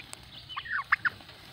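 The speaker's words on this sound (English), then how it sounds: "I just love turkeys" Turkeys give a few short, quiet gobbling bursts in quick succession against faint background hiss, with no voices.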